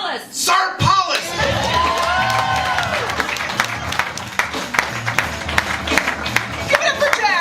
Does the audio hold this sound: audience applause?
yes